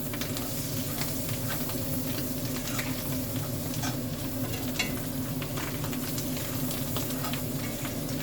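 Onions sautéing in a pan give off a steady, close sizzle with crackling pops and occasional stirring scrapes, continuous throughout with no voices.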